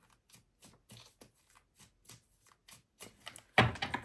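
Crisp papery riffling of tarot cards being shuffled, a run of short soft bursts followed by a louder cascade near the end, close and without talk.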